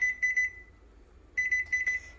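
A kitchen timer beeping while chicken soup is cooked, with clusters of rapid high electronic beeps, a pause of nearly a second, then another cluster, loud and close, with no talking.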